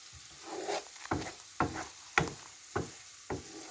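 Vegetable egg fried rice with spices being tossed and turned in a pan, with six distinct rhythmic scraping strokes over a soft background sizzle.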